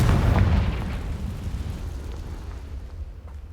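A deep explosive boom from the Confringo spell in Hogwarts Legacy, cast in a maze, hits at the start and rolls away into a fading low rumble.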